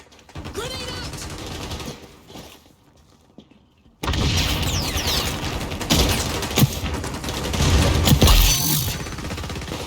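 A video game battle erupts with a loud burst after a brief quiet gap, followed by heavy gunfire and debris-like crackle, with faint radio chatter early on.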